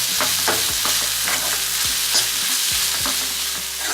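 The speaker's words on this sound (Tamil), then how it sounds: "நல்லா இஞ்சி பூண்டு பேஸ்ட் வந்து ராஸ்மணி போடுறதான் வந்து நல்லா வதக்கி எடுத்துக்கோங்க" Ginger garlic paste sautés in a hot pan with a loud, continuous sizzle and repeated scraping strokes of a spoon stirring it. There is no speech.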